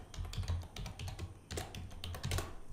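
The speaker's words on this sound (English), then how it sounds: "So I'm typing my password here" Password being typed on a computer keyboard during an Azure portal login, a close, steady run of quick key clicks in uneven bursts with a brief pause midway, and no talking.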